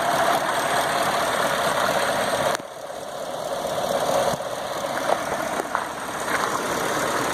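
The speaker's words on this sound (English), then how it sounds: "Engine sounds great." A 2017 GMC Sierra Denali pickup's 6.2-litre V8, a salvage truck, idles steadily and close up, with a few brief clunks partway through and no talking.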